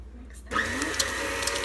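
An electric mixer starts up and whirs steadily through banana and squash bread batter, a close, continuous motor hum with a faint voice in the background just before it starts.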